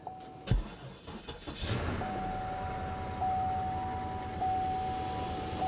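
A used car with 163,000 miles cranks with a few clunks and catches, then idles steadily with a rumble while a warning chime beeps repeatedly in the cabin.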